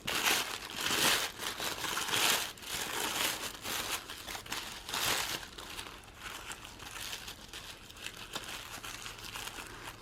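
Layers of tissue paper from a flower kit crinkling and rustling as they are pulled apart, in repeated close bursts of soft crackle, no talk.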